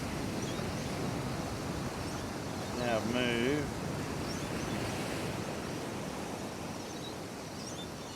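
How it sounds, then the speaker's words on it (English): Ocean waves break against coastal rocks in a steady, continuous wash of surf, with someone briefly talking partway through over the roar. "The big wave coming."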